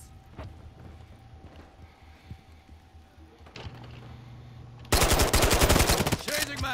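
Gunfire in the Call of Duty video game: a rapid automatic burst near the end, loud and close, following quieter game ambience with a few faint distant shots.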